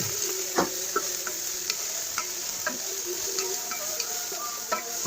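Fried meat and potatoes stirred inside an electric multi cooker, a soft continuous sizzle broken by regular clicking scrapes of a spoon against the pot, close up, with no talking.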